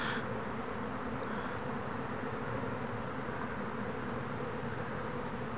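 Honeybees swarm around a beekeeper at an open hive, producing a dense, continuous buzzing drone that stays steady and fairly loud throughout, with no speech.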